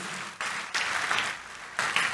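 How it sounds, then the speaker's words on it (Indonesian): A church congregation claps during a sermon in several short, lively bursts of applause heard from a moderate distance. "Tepuk tangan yang meriah buat Tuhan Yesus"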